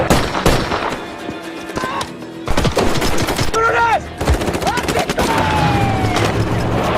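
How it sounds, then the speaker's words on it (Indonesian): Film shootout gunfire, loud bursts of rapid shots and single cracks with ricochet whines and a brief lull, a voice briefly audible amid the chaos. "Setiap saat peluru melesat bisa saja menembus tubuhnya"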